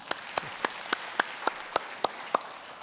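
A church congregation claps in a steady, even rhythm, about nine crisp claps in under three seconds, with no voices over them.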